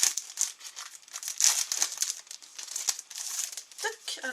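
Paper wrapping crinkles and tears as postcards from a road-trip themed goodies box are unwrapped, a close, continuous rustling with brief louder crackles.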